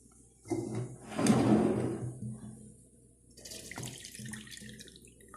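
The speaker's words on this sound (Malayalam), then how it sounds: "വറുത്തെടുത്ത അവിൽ കുറച്ച് വെള്ളം ഒഴിച്ചിട്ട് സൂക്ഷിച്ച് കഴുകണം" Roasted flattened rice (aval) being washed under running water, a close splashing pour that swells for about two seconds, fades, then returns more softly with small clinks and drips, no talking.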